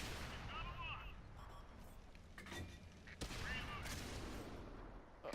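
Artillery fire in World of Tanks, with several sharp booming blasts and rumbling impacts amid steady battle noise and a few whistling whines, all heard at moderate loudness.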